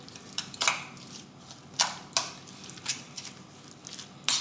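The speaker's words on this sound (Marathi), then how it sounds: "आणि या दह्याला चांगलं मिक्स करून घेऊया" Yogurt and a spoonful of sugar are stirred into grated beetroot in a bowl, producing soft wet squelches and scattered spoon clinks against the bowl at an uneven rhythm, close and fairly quiet.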